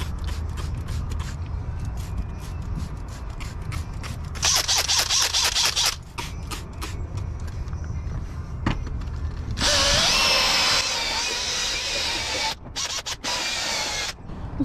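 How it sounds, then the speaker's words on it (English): A cordless power drill spins a soft detailing brush with orange degreaser on junkyard car parts, sounding as close, loud bursts of whirring and scrubbing with short pauses between them. "it works great with a brush on a drill"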